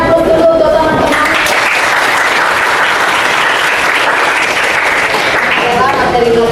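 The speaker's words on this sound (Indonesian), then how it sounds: "Beri aplaus dulu untuk teman-teman." A classroom of students claps for their classmates, sustained close applause filling the room, with voices mixed in near the start and end.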